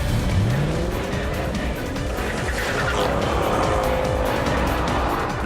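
A Mercedes S63 AMG and a BMW 760Li drag racing side by side, loud continuous engine roar with rising revs and tire noise throughout, no talking.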